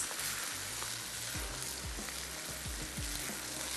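Mushroom rice being mixed in a sizzling pan, a steady frying hiss with a few soft scraping strokes of a spoon near the end, close and continuous with no talk.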